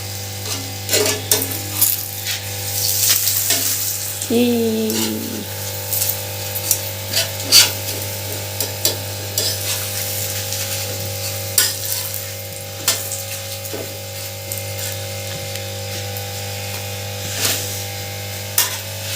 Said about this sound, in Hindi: देखें जी, पराठे को घी लगा रहे हैं।